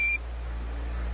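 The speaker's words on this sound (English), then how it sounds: "Roger, 1201 alarm." Brief electronic beep tone of the Apollo 11 lunar module 1201 program alarm, a short steady high pitched tone that cuts off quickly over a constant hiss of radio static.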